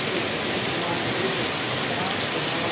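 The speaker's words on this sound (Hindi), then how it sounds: "देखिए बारिश की बूंदें अभी भी बहुत" Heavy rain pours steadily in Patna, a dense, unbroken hiss at high level for the whole stretch, with no pauses or distinct drops standing out.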